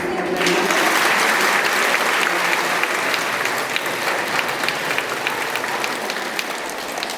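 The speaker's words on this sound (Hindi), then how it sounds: "आपकी तालियों की गड़गड़ाहट" Loud, sustained applause from a crowd of students at a girls' intermediate college in Kandhla, dense clapping that fills the whole stretch with a few voices mixed in.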